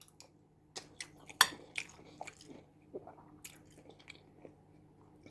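Someone chews a mouthful of home-cooked carrot rice, with soft wet squishes and a few sharper crunchy bites close to the mic, irregular and fairly quiet, with no one speaking.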